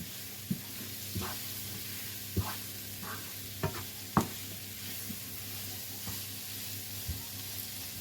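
Tomatoes with salt soften in a hot pan for a prawn and semolina dinner, giving a quiet, steady sizzle broken by several sharp stirring scrapes and taps.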